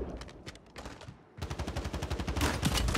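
Rapid gunfire crackles through a battle royale match, starting as scattered distant shots and swelling after a brief lull into loud, dense bursts of automatic fire, with a sniper rifle shot coming from far off amid the firefight.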